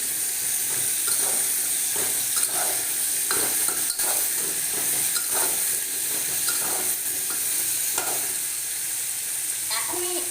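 Mustard seeds and bori (sun-dried lentil dumplings) fry as a tempering for a vegetarian pumpkin and potato curry with Malabar spinach. A constant loud hiss runs throughout, under repeated close scraping stirs and no voices.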